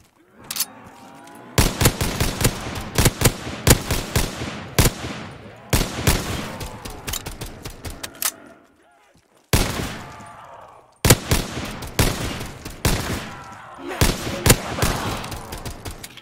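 Rapid bursts of gunfire from a gun in Call of Duty Zombies, on a Silent Hill P.T. map, blast loudly and close, in repeated volleys of quick shots separated by short pauses.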